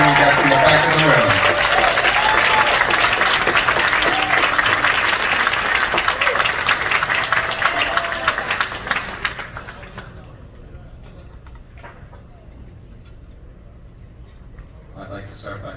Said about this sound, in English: Can I get a big round of applause for Soul standing up over at the programming desk